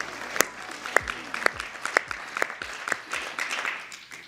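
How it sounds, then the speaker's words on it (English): Moderate applause at a press conference, with a handful of distinct, evenly spaced sharp claps standing out over a softer, scattered patter. "A round of applause for Mike"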